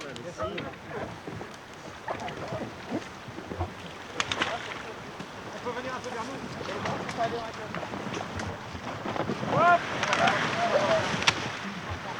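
A Zodiac inflatable boat with an outboard motor moves over open water, engine drone mixed with wind buffeting and splashing, while a voice talks over it throughout.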